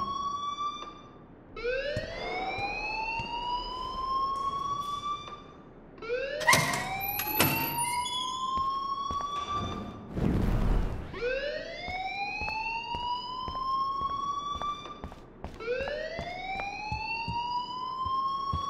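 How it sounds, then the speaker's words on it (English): A school alarm in Life Is Strange wails in repeated rising sweeps, loud and insistent, broken by a few sharp bangs and clatters. "please turn off that alarm since that's your job"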